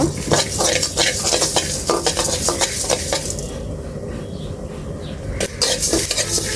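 Panch phoron, cumin and coriander seeds fry for a pickle while a spatula stirs them briskly against the pan, giving close, rapid scraping and clinking over a steady sizzle.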